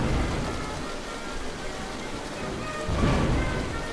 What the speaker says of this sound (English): thunder and lightning dance high overhead.